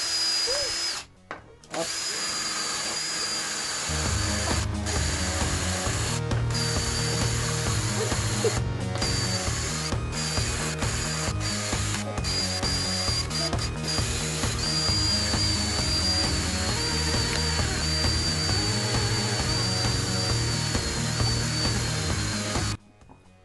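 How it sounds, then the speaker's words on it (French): A cordless drill driver spins a wire brush against aluminium bicycle parts, a loud close whirring grind running steadily with brief stops and restarts near the beginning, a short spoken word at the start. "une visseuse avec une brosse métallique"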